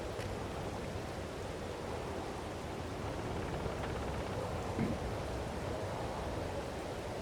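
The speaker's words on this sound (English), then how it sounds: "it's still raining." Steady rain falls in Farming Simulator 22, a continuous even hiss of downpour with no breaks, moderately loud and heard alone.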